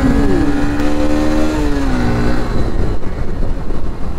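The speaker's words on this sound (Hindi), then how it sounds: "क्या फुरेज भाई गाड़ी चला रहे हैं" A motorcycle engine revs and pulls away nearby on a road in Mohammadabad, Ghazipur, a loud rising-then-falling whine that settles into a rough, steady rumble, with no voices over it.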